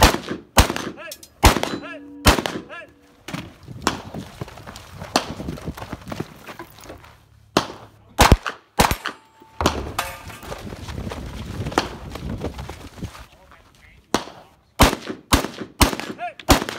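Gunfire at steel popper targets during a 2 Gun action challenge match, sharp loud shots in irregular bursts with pauses, interspersed with movement and footsteps between engagements.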